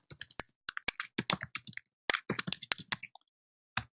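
Quick bursts of clicking keystrokes on a computer keyboard, typed in short runs with brief pauses, close and crisp, with no talking.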